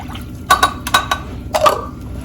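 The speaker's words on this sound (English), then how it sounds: "And then we're going to add 2 cups of milk." Two cups of milk poured into a cooking pot give a brief close splashing and glugging with a few light knocks against the pot over steady background hiss.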